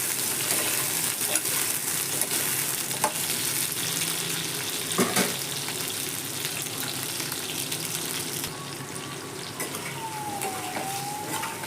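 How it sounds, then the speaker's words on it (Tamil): Four whole medium-sized tomatoes sauté in a hot pan for chutney, a steady loud sizzle and frying crackle running throughout with occasional stirring knocks. "நீங்கள் தக்காளி கட் பண்ணாமல் முழுசாக சேர்க்கணும்னாலும் சேர்த்துக்கலாம் வதக்கிக்கலாம்"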